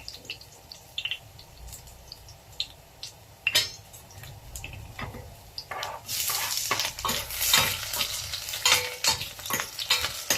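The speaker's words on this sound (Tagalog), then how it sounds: "maggisa na po tayo ng sibuyas at bawang" Garlic and onion sautéing in a pan, with scattered spoon taps and soft stirring at first, then a louder, bright sizzle that swells after about six seconds, punctuated by repeated scraping strokes.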